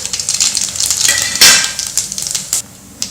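Loud, close crackling sizzle of mustard and cumin seeds popping in hot oil, with sharp spattering bursts.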